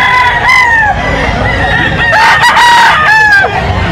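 A stag gamecock crows repeatedly at a rooster market in Grotto, Bulacan, several loud, close cock-a-doodle-doo calls overlapping one another.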